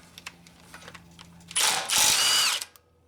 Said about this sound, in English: we'll pop this nut off with a 17mm